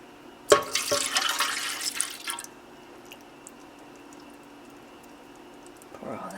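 Liquid ingredients poured from a container into a bread machine pan, a splashing gush lasting about two seconds, then a faint steady hum and a light clunk near the end.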